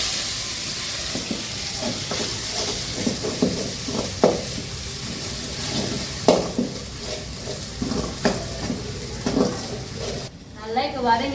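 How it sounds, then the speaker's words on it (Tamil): Ground mudakathan (balloon vine) leaf paste for a thuvaiyal sautéing in a pan over a small stove: steady oily sizzling with repeated scraping strokes of a stirring spoon, fairly close, with a voice briefly audible. "அம்மியில் அரைச்சி வச்சு முடக்கத்தாங்கறி அதை போட்டு நல்லா வதக்கி எடுத்துக்குவோம்மா."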